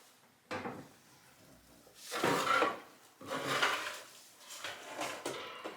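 An oven door clunks open and metal pans scrape and knock as roasted tomatoes and other vegetables are pulled out, a series of close, uneven thumps and rattles.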